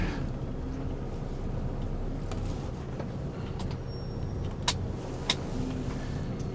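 A white truck's engine rumbles steadily at low pitch while it creeps forward in a parking lot in Poland, with a couple of faint clicks near the end and no talk.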